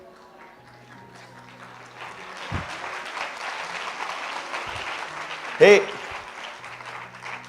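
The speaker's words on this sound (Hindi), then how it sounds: "तुम लोग ताली क्यों बजा रहे हो?" An audience applauds during a sermon, a swelling patter of clapping that builds and then fades, mixed with speech and a loud vocal outburst near the end.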